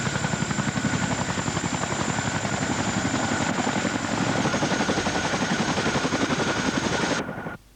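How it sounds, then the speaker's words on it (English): Chinook twin-rotor helicopter coming in to land, a loud, close, rapid rotor thudding with a high turbine whine that continues steadily before cutting off abruptly near the end. "A Chinook coming into land,"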